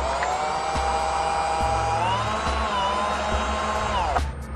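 A cordless screwdriver drill (YT-82782) runs its chuck in a steady high-pitched motor whine, pitch shifting slightly as it changes speed, then cutting off near the end.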